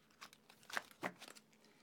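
A deck of tarot cards being cut at a reading: a few soft, papery crinkles and two brief, sharper snaps of card edges, close and quiet, with no talk.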